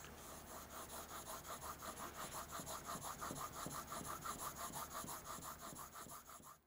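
A 3/4 inch crank neck chisel is sharpened, its steel rubbing back and forth in a quick, even rasping rhythm of repeated strokes, close by but quiet, with no talking.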